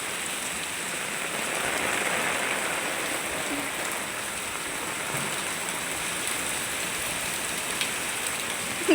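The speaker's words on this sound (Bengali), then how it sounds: "দেখো কি জল বৃষ্টি পড়ছে" Heavy rain pours steadily during monsoon flooding, a dense, continuous hiss of drops on surfaces and running water with no pauses, close and fairly loud throughout.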